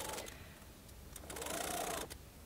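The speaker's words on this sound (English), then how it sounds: "So you're simply sewing two layers of fabric here" A sewing machine stitching two layers of shirt fabric for a yoke, a quiet steady mechanical whir in short runs that speed up and stop, heard alone without talk.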